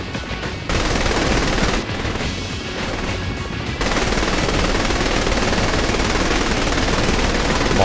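Gunfire in the game Saints Row: The Third Remastered, with dense, nonstop automatic shooting and crashing impacts that stay loud throughout and barely pause.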